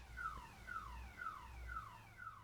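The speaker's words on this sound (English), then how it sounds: "There's a car alarm going off." A car alarm wails in the distance in a residential neighborhood, its siren tone sweeping down over and over in a steady, repeating cycle, faint against a low background rumble.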